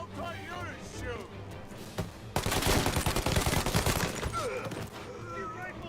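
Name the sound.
gunfire in the video game Mafia Definitive Edition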